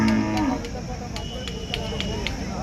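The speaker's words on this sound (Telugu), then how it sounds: "ఇక కూడా ఎద్దులు ఉన్నాయి" Oxen and other cattle at a busy Wednesday bull market in Devarakadra, with a low moo near the start followed by crowd murmur and scattered clacks across the livestock yard.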